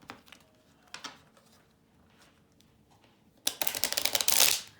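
Angel cards being shuffled, a few faint riffles early on, then a loud, dense burst of rapid card flutter near the end.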